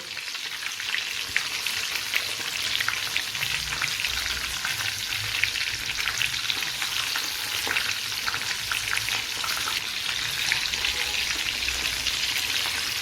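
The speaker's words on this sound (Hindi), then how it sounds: "मैं एक एक करके जितने कढ़ाई में आएंगे उतने मशरूम को डाल दूंगी" Stuffed mushroom pakoras deep-fry in hot oil in a kadai over medium heat, giving a dense, steady sizzle and crackle that stays loud and even throughout, close up with no voices.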